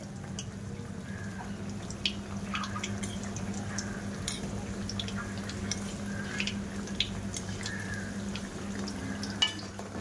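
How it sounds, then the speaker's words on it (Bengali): Potato-stuffed puris deep-frying in oil make a quiet, steady bubbling with scattered small crackles and pops over a low background hum, heard alone without speech. "একটু হাতে সময় নিয়েই পুরিটা ভাজা করতে হবে"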